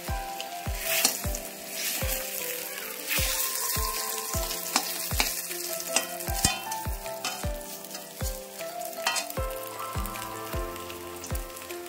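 Chutney-stuffed snacks dipped in gram flour batter frying in hot oil, a close, bubbling sizzle with a steady series of sharp crackles and pops throughout.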